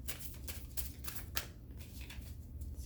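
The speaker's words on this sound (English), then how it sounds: "I'm gonna do one more shuffle" A deck of tarot cards is shuffled quietly at close range, with a steady riffling patter broken by a few sharper slaps, no talking.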